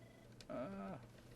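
A phone rings or beeps during an online webinar, a single short tonal burst of about half a second at moderate loudness, alone against a quiet background.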